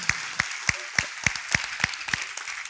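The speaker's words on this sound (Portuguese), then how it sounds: "Vamos dar um aplauso para eles," A church congregation claps together in a slow, steady rhythm, about three sharp beats per second, moderately loud and filling the room.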